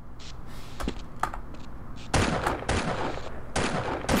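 Rapid gunfire crackles in Half-Life, striking the player character in dense bursts after lighter clicks and taps, loud and close with no talk.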